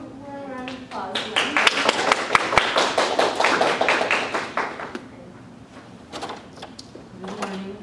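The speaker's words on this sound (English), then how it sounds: "So let's do a round of applause." A small audience at a writing contest awards session gives a short round of applause: crisp, scattered claps that build quickly, hold for a few seconds, then thin out to a few stragglers.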